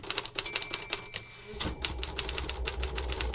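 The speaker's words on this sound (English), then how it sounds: "clacking away on her typewriter" Typewriter keys clack in quick irregular bursts, one bell-like ding sounding early, then a carriage shift and a faster steady run of strikes, close and crisp with no voices.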